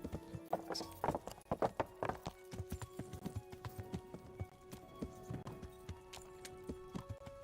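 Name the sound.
riding horse hooves in video game Kingdom Come: Deliverance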